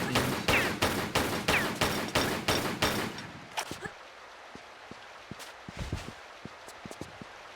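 Evenly spaced gunshots in Tomb Raider 3, about nine loud regular bangs in a row, followed by quieter scattered clicks and taps of movement.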